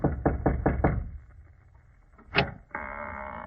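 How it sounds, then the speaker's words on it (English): Five quick, firm knocks on a door sound close up, followed by a quiet stretch, a single sharp bump and then a steady hum. "Go on, Watson, knock."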